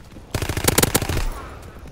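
Gunfire in Call of Duty: WWII, with a sudden close, loud burst of rapid automatic shots that rattles for about a second, then fades into lingering game ambience.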